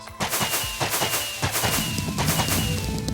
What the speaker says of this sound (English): scroll with your mouse to just shoot firework after firework